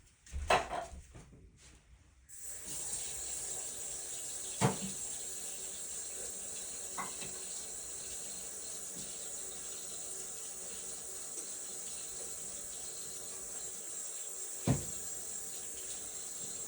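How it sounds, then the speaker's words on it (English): Tap water runs into a can at a kitchen sink: a faint, steady hiss starts after a couple of seconds of handling noise and carries on, with a few soft knocks. "I put some water into my can with my soup base mix"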